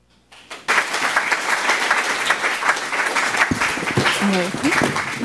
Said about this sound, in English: A lot of people were clapping.